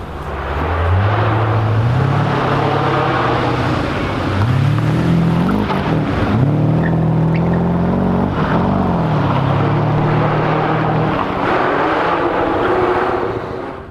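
A loud rally car engine, a Mercedes 450 SLC, roars close by at the Goodwood Festival of Speed rally stage, revving up and shifting through gears as it drives past, steady and powerful throughout.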